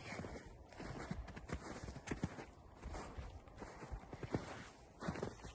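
Draft horses' hooves clip-clop on a hard surface at a steady walking pace, fairly close and quiet, with a light outdoor background.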